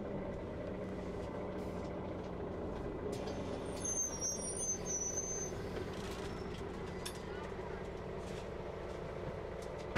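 Inside a moving bus, a continuous low engine rumble and road noise run throughout, with a faint high brake hiss or squeal midway and scattered rattles of the cabin.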